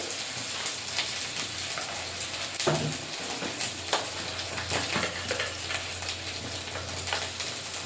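Spices with turmeric and chili powder fry in a pan, a steady soft sizzle broken by scraping stirs and occasional louder clatters.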